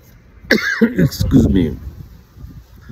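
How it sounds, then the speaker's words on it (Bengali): A man coughs in a brief burst of several harsh, close coughs, with a throaty chuckle-like tail, then quiet room tone; no words are spoken. "আমার এই কাশি বেশি কথা বলতে দেবে না, বোঝা যাচ্ছে"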